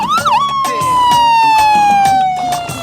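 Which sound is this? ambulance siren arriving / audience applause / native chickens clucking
ambulance siren arriving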